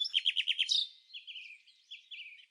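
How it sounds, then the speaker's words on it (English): A malachite kingfisher in Botswana's wetlands gives a rapid series of high, thin chirps, followed by softer, drawn-out squeaky trills, close and alone against silence. "Say hello to the malachite kingfisher, a living jewel of Botswana's wetlands."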